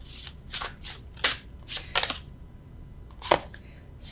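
Tarot cards are shuffled by hand without riffling, giving a series of short crisp papery slaps and swishes close by, irregularly spaced with brief pauses between them.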